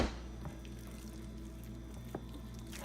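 Milk pours in a small dab into a bowl of meatloaf mixture, a soft wet squish and trickle over low background hum, with no talk.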